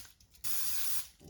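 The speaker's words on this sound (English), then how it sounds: "We should have sprayed the bundt pan first." Baking spray hisses from a can in one steady burst of about half a second into a bundt pan, close and fairly loud, with quiet kitchen room tone before and after.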